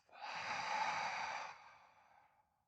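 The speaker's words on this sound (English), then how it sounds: "Take a deep breath in through your nostrils, and an exhale out through your mouth." A single deep, breathy breath, drawn in through the nose and let out through the mouth as part of a breathing exercise. It is soft and close, swells for about a second, then trails off into quiet.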